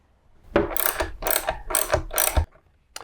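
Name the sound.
screws being put back into a motorcycle dash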